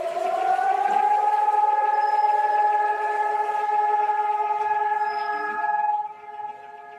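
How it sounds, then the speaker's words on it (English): A loud, steady air raid siren sounding for the yearly Holocaust memorial moment in Israel, a sustained wailing tone that holds level for several seconds before dropping off near the end, with no talk. "The air raid siren goes off and cars stop on the highway and you get out and you stand."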